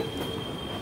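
The Delhi Haridwar Express rolls into a platform at Haridwar railway station, giving a brief, faint rumble with a thin wheel squeal and no voices.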